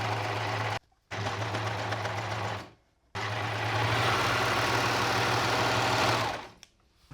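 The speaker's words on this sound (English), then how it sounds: "Now for both the sleeves I will overlock them all around." An overlocker hums and whirs while it stitches around the sleeve edges of a linen dress. It runs in three close, steady bursts separated by short pauses, with no talking.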